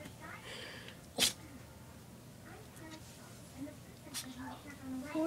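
A small chocolate Yorkie gives a single sharp sneeze, close and brief, standing out against a quiet room with faint background murmurs and soft sounds.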